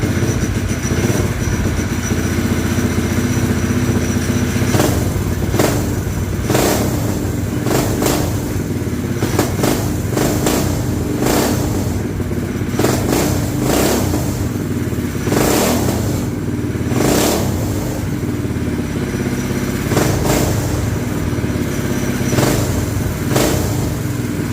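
A street drift racing lawn mower engine, fitted with a muffler, runs loud and steady close by, with repeated sharp throttle blips and revs punching through a constant rough idle.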